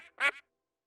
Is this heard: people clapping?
no